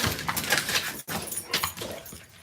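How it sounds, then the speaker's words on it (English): Several dogs crowd a house's front door, giving short excited whimpers and yips amid shuffling and jangling, close by and busy, with a brief gap midway. "Look at all these dogs."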